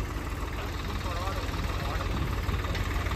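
A JCB excavator engine drones continuously at a steady, loud level while pulling a stuck tractor, with rain hiss and voices faintly beneath it.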